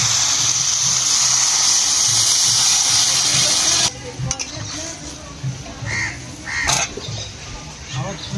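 Water is poured into sautéed potatoes in a hot pan for a Bengali fish curry: a steady loud hiss and sizzle for about four seconds, then softer bubbling with light clinks and a bird cawing in the background.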